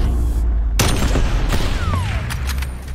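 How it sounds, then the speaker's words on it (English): Gunfire in a first-person shooter's search and destroy match, with a loud sharp shot cracking in suddenly, followed by echoing booms and rattling in a dense, close burst. "Wait, that shot came from behind me."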